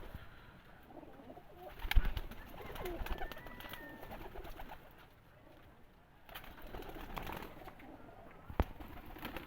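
Breeder pigeons coo in a loft, soft low rolling calls repeating through the clip with a few sharper knocks and thumps around them, no talk over them.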